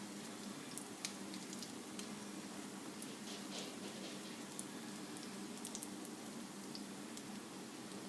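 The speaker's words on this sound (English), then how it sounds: "you just put your little bannocks in there and proceed to fry them" Small bannocks fry in a pan that isn't quite hot enough, a steady soft sizzle with scattered crackles and pops running the whole time, fairly quiet and close, with no talking.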